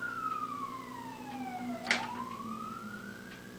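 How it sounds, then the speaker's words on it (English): An ambulance siren wails past on a street, its tone sliding sharply downward as the vehicle goes by midway, then fading off at moderate distance with a low engine rumble underneath. "there goes the ambulance."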